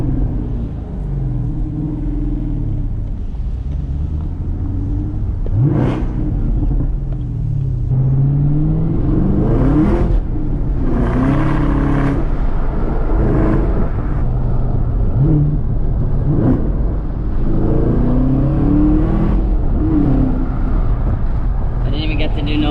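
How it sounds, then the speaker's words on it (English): A 2019 Camaro ZL1 1LE engine rumbling and revving up several times, rising whines over a loud low drone with wind noise throughout. "Give it a couple revs over here."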